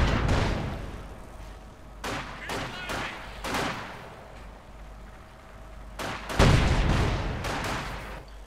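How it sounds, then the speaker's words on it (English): Panzerwerfer rocket launchers fire in the WWII strategy game Company of Heroes 2, heard as sharp bursts of whooshing, crackling blasts in clusters with quieter battle noise between them. "Panzerwerfers unleashing rockets and not hitting anything."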